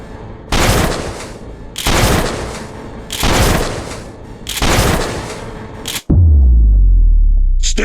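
Four loud, evenly spaced bursts of gunfire ring out close by, each with a rough decaying tail, followed by a sudden heavy low thump and rumbling aftermath.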